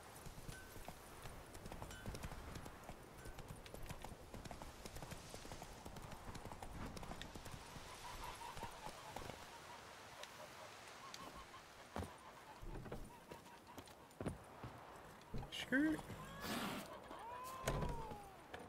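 Horse hooves clip-clop steadily in The Witcher 3 with no speech over them, joined near the end by a few louder knocks and thuds.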